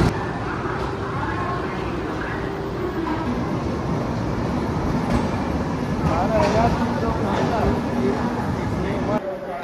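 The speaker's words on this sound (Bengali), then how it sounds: "12টা 35 প্রায় স্টেশনে ট্রেন দিয়ে ঢুকছে।" The Kumbha Express, train 12369, pulls into platform 11 of a station with a low, steady rumble of rolling coaches and a faint screech midway, under the murmur of a busy platform crowd.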